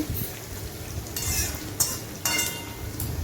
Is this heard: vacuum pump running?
no